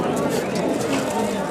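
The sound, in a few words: racer pigeons at a pigeon market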